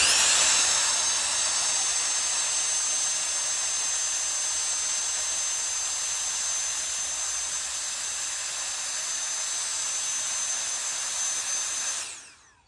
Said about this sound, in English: I have my Jufine blower here. It's giant.